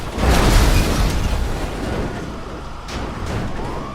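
A tank hit by a rocket in GTA Online explodes in a loud, rumbling burst at the start that decays into a long, noisy roar, with a couple of sharper cracks later on.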